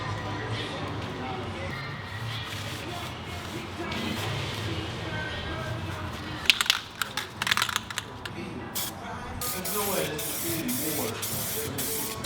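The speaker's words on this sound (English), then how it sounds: "So we'll have literally the exact paint code to spray onto here" Short bursts of aerosol spray paint hiss close by in a Honda Civic engine bay, several brief puffs clustered in the middle, while someone talks over steady background noise.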